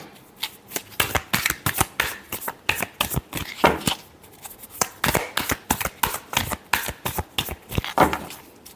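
Tarot cards shuffled by hand for a love reading, a rapid series of crisp papery slaps and riffles in steady bursts, close and clear throughout, with no voice over them.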